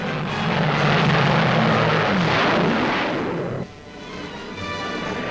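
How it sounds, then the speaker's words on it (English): Jet fighter planes roar over an airfield, held to about 500 miles an hour, a loud broad engine rush swelling and fading before cutting to a lower rumble. "Cameras photograph the airfield as the jet planes, capable of more than 700 miles an hour, are held down to about 500."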